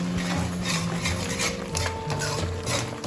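A pepper and fenugreek powder is stirred into a puliyodharai mix in a pan, giving close, continuous scraping and shuffling of a utensil through the thick mixture.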